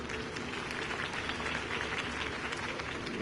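A large crowd applauds Harvey Dent's campaign speech in Batman: The Telltale Series, giving a dense, even, continuous wash of clapping that holds steady throughout.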